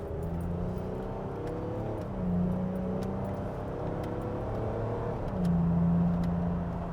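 A Ford Explorer Sport Trac pickup engine runs steadily, then rises in pitch twice as it accelerates, short of full throttle, a smooth droning hum heard close up with no talking.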